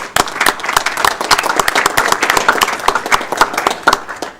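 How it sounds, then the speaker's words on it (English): Audience at a city council meeting applauding arts commission members, dense and close hand clapping with sharp individual claps, steady throughout. "So you can give them a round of applause."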